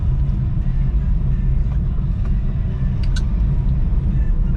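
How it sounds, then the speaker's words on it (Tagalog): Road traffic in Taguig City during a quarantine rolls past as a steady low rumble of car engines, continuous and moderately loud, with a couple of faint higher squeaks and no clear voices. "Yan ang sitwasyon ng traffic ngayon dito."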